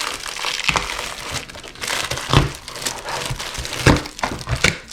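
Plastic and cardboard packaging of a Hachette Combat Patrol magazine pack crinkles and crackles while being opened, with irregular close rustles and a few sharper crunches, and no talk.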